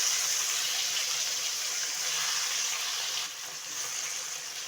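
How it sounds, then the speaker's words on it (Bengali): Fish frying in hot oil in a home kitchen, a steady close hiss and crackle of sizzling that holds evenly, dipping slightly near the end. "মাছগুলো ভেজে নেব।"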